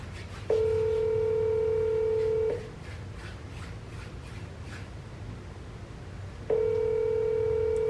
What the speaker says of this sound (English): we're dialing